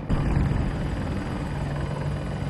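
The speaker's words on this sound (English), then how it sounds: "Oh, it's another chopper." A helicopter in the Battlefield 2042 video game passes overhead, its loud continuous rotor roar and whine filling the whole stretch with no speech.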